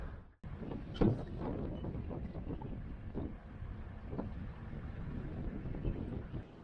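Ferocious wind buffeting at a campground, a loud continuous roar with gusty surges blasting across the microphone for the whole stretch, no voices.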